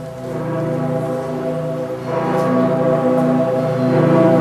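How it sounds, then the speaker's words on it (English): A deep bell tolls with long, sustained ringing tones that swell and overlap, growing slightly louder partway through, with no voices. "The midday bell is only just striking."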